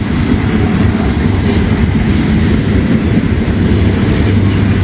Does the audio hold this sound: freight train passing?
yes